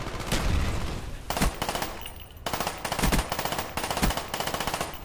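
Rapid bursts from an Uzi submachine gun in the Black Ops video game, close and loud, several sharp rattling strings of shots with short breaks between them.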